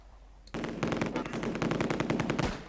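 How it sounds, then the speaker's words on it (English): An MG42 machine gun from the Close Combat video game erupts after a brief quiet moment and then fires rapid, sharp bursts of shots, loud and close. "That is a MG42, right?"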